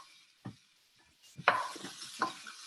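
Ginger and garlic stirred in a pan: a few soft scraping strokes and a brief sizzle, with sparse clinks of a utensil against the pan, fairly quiet and close.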